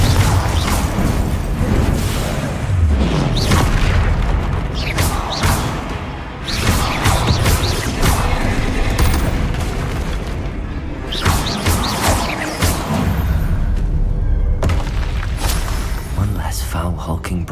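Confringo fire spells bursting in Hogwarts Legacy, a dense run of loud booms, crashes and thuds layered over battle noise and spell effects, with a voice speaking between blasts.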